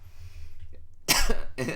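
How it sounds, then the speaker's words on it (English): Two sharp coughs, close and loud, follow a quiet low hum. "Sorry guys, I'm coughing a little bit"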